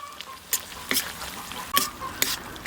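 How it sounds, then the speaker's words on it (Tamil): Crushed garlic frying with mutton liver in a pan, a steady soft sizzle with a few sharp stirring scrapes and clatters at intervals, close and moderately loud, with no talking. "இடித்த பூண்டை ஈரலில் சேர்த்துக்கிடுவோம்"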